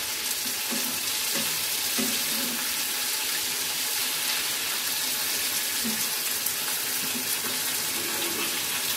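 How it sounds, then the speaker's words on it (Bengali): Tomatoes fry gently in a pan for a spicy tomato chutney, giving a steady soft sizzle with light stirring scrapes throughout, moderately close and with no voices. "টমেটোগুলো অল্প অল্প ভেজে নিতে হবে"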